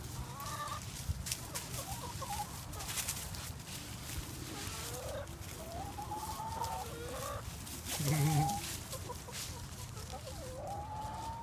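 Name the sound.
chickens clucking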